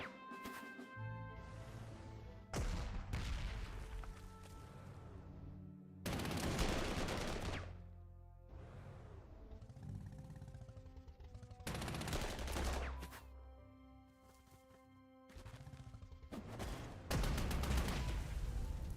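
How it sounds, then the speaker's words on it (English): Artillery bombardment in the Panzer Corps 2 strategy game: repeated heavy booming blasts and rumbling explosions in irregular bursts, loud and close, with music-like tonal layers underneath and no talk. "Nice artillery bombardment."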